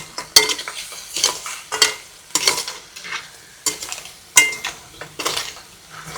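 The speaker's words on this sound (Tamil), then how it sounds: "மசாலாவோட இப்படி நல்லா கிண்டணுங்க" A spoon scrapes and stirs crab with masala in a pan, producing repeated sharp clanking strokes every half second or so over a soft sizzle, close and fairly loud.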